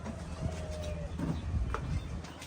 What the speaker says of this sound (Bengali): পায়রাগুলো দেখুন আপনারা, ভালো লাগবে সবার।